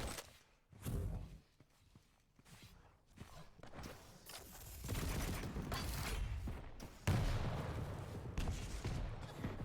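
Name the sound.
rocket launcher fire from a video game, Quake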